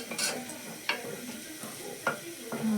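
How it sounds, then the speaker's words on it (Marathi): Garlic sizzles softly in hot oil as a tempering for a mung bean dish, broken by a few quick scrapes and clinks of a spoon stirring the pan. "त्यांनी लसूण घातली आहे फोडणे बघूया आपण"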